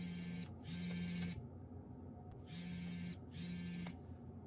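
A telephone rings in two double-ring cycles, each a pair of bright electronic trills separated by a short pause, fairly quiet and alone with no voices.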